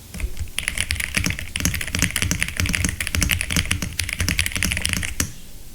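Fast, continuous typing on a Royal Kludge RK65 mechanical keyboard with Chartreuse switches: dense, close clacking keystrokes at a rapid, uneven rhythm for about five seconds before stopping abruptly.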